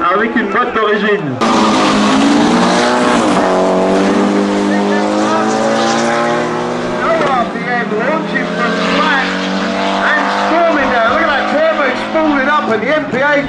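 A VW flat-four drag racer launches and accelerates hard down the strip at a European Bug-In, its engine tone rising loud and continuous for most of the run while an announcer talks over it.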